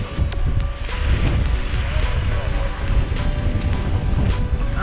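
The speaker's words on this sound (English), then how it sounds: "helicopter has found us. So they are circling us now." A helicopter circles low overhead at sea near a sailing boat, its rapid rotor chop pulsing steadily over broadband wind and wave noise, loud and continuous throughout.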